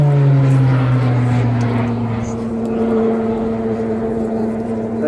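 Tucano turboprop aircraft at the Southport airshow pulling up into a stall turn during its display, a steady loud engine drone with shifting pitch held throughout, the tone sliding slightly as it climbs.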